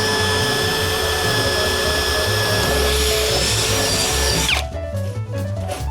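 A power drill bores a starter hole in a wooden board, its steady loud whine running for about four and a half seconds before the motor cuts out and the sound drops away, with no talk.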